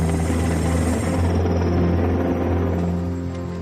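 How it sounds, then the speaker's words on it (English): A firefighting helicopter flies over bushfires, its rotor giving a loud, steady, close-up thrum with a droning engine tone throughout, fading slightly at the end. "Larger choppers were being used as water bombers."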